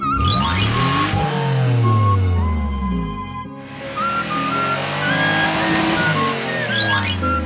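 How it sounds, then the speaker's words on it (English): Police car engine accelerating in loud, close surges, pitch rising then easing off, with a brief lull midway before revving up again. "Police car."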